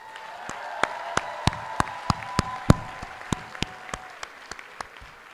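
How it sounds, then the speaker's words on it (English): A hall at a community college commencement ceremony gives soft applause for graduates' family members, heard as a low, diffuse wash from the crowd. Sharp, evenly spaced clicks sound above it, and a faint tone hums through the first part. "I also want to give a hefty round of applause and thanks to your family members"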